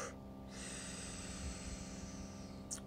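A person doing a deep Wim Hof-style breath, a long steady inhale or exhale through nose or mouth, close and moderately loud, with a short sniff at the end and no talking.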